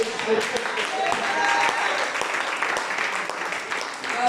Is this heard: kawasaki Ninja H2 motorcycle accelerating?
no